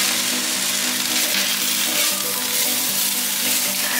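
Cabbage and shiitake mushrooms stir-frying in a hot pan give a steady, close sizzle and crackle that stays even throughout with no talk.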